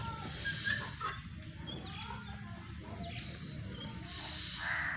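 Harsh squawking calls from a pair of parrots, father and son, sound fairly faint and scattered over a steady background hiss, with no talking.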